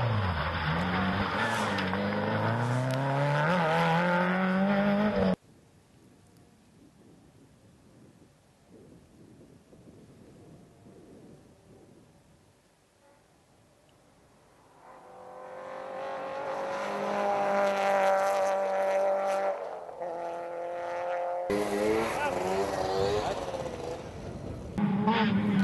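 Renault Megane Coupé rally car at the Lanzarote rally, engine roaring loudly and shifting pitch as it accelerates, then a long quiet gap before the engine note builds again and revs hard near the end.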